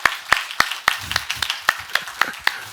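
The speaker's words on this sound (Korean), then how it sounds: "박수 한번 해요. 박수 한번." During a Sunday church service, a few congregation members clap with sharp, close, fairly regular claps, about nine in under three seconds, with a brief low murmur between them.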